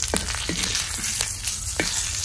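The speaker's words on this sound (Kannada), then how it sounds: "ನಂತರ ಸ್ವಲ್ಪ ಕರಿಬೇವಿನ ಸೊಪ್ಪು, ನಂತರ ಸ್ವಲ್ಪ ಇಂಗಿನ ಹುಡಿಯನ್ನು ನಾನು ಸೇರಿಸ್ಕೊಳ್ತೇನೆ." A tempering of curry leaves and asafoetida sizzling in hot oil, a loud close crackle with quick popping spits scattered through a short burst.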